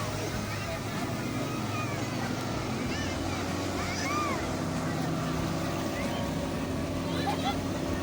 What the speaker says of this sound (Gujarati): સ્પીડ બોટ છે આ સાઈડ